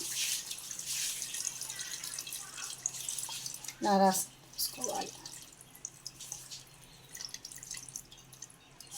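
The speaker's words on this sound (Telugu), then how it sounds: "ఈ చింతపండు పులుపు బాగా పిసుక్కొని రసం అంతా దాంట్లో పోయాలి" Squeezed tamarind juice trickles and drips into a pot for sambar with a few distinct splashes, while a voice speaks quietly nearby.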